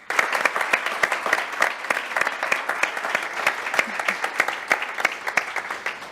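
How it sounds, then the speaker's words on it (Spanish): An audience applauds at an education conference, with dense, sharp hand claps in a lively, even rhythm. The applause holds at steady loudness without letting up. "Un aplauso, por favor."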